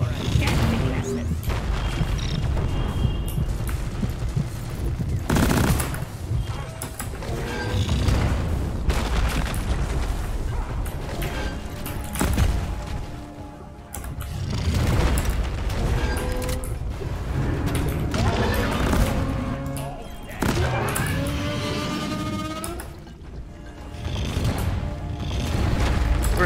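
Gunfire and booming blasts from the video game Deep Rock Galactic, on a Hazard 5 elimination mission, run almost continuously in a dense, loud din of shots, impacts and mechanical clatter.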